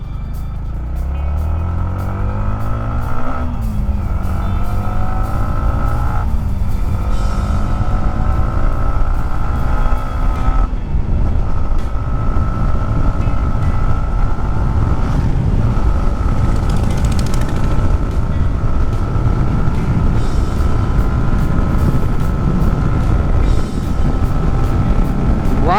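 A Yamaha MT-15 v1 motorcycle accelerates hard in second gear, its engine note climbing steadily in repeated rising sweeps as it revs up, loud and close throughout with no talking.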